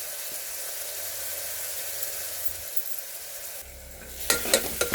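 Crushed garlic frying in a pan, a broad steady sizzle that dips briefly before sharper stirring scrapes and crackles burst in near the end.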